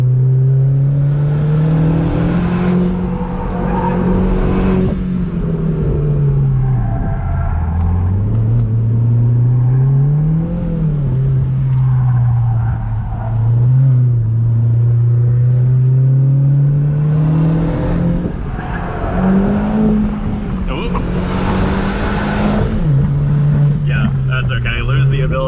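A modified car at Lime Rock race track drones loudly from the cabin, its engine note rising and falling as it accelerates and lifts through corners. A driver talks over the engine the whole time.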